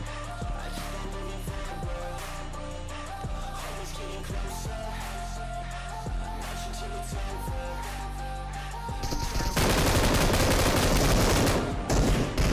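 Gunfire in the PUBG Mobile battle-royale game: repeated single shots at a steady rhythm, then a dense, loud burst of rapid automatic fire near the end, all close and without talk.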